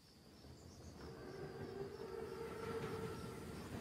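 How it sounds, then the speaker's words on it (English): A Panzerzug armored train from Call of Duty WWII arrives as a steady, rumbling rail roar with faint tonal squeals building gradually, heard alone at moderate distance without speech. "Train's right on time."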